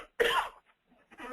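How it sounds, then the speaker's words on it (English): One sharp, close cough, followed a moment later by a softer throat-clearing sound. "I'm going to cough."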